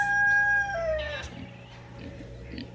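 Guinea fowl call nearby with a sharp, high, whistling cry that bends downward, followed by softer scattered clucks and chatter in an outdoor poultry yard.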